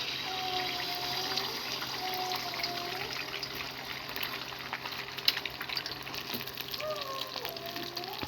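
Beaten eggs poured into hot oil in a kadai sizzle and fry with a steady, even hiss throughout, with a faint clink near the middle.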